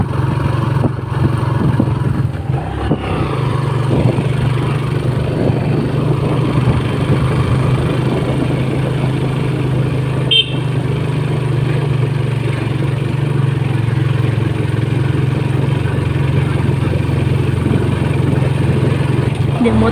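A motorcycle engine runs steadily throughout, a constant low hum with a brief disturbance midway, close and continuous.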